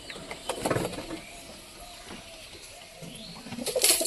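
Black pigeons cooing softly in a short, faint low burst near the start and again at the end, with quiet background rustle between.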